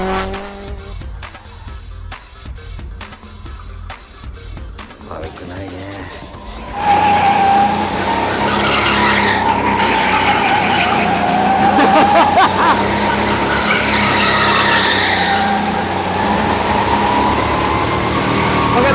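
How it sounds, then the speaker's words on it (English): Tires on an indoor go-kart track squeal loudly as a powerful kart slides through a corner, with a persistent high screech over the engine drone that starts partway through and lasts to the end. "But now I just want to slide it. All the way through."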